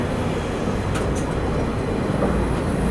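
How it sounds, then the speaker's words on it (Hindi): Indian Railways Rajdhani Express, train 12302 linking New Delhi and Howrah, rolls through Jasidih Junction station in Jharkhand with a steady, loud rumble of wheels and carriages throughout. "ये है ट्रेन नंबर 12302, यानी कि नई दिल्ली को हावड़ा के साथ कनेक्ट करने वाली इंडियन रेलवेज की 3rd फास्टेस्ट"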